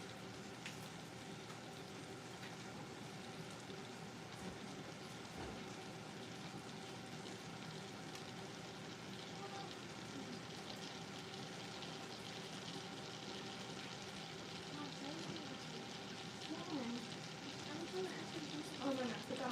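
A mixture cooks in a pan, boiling down and melting with a steady bubbling sizzle throughout, faint and continuous with no other sounds over it.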